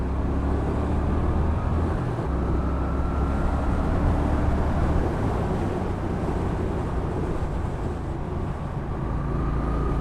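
A Brixton Cromwell 1200 motorcycle engine pulls hard while overtaking on the road, a loud continuous low drone with rising pitch, buried under heavy wind rush.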